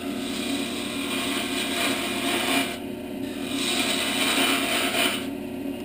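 A bowl gouge cuts wood spinning on a lathe while a birdhouse is turned, giving a steady close rasping hiss that swells and eases in long passes over a constant motor hum.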